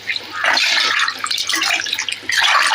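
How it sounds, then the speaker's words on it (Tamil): Water is poured into chicken curry in a pan, a close splashing stream that runs in a few bursts separated by brief pauses. "இப்போ வந்து நம்ம குழம்புக்கு தேவையான அளவுக்கு தண்ணி ஊற்றிக்கலாம்"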